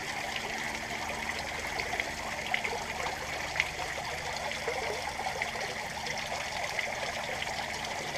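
Water steadily trickles and splashes in an aquaponics system as a plant is dropped in, a continuous close, even flow with no talking.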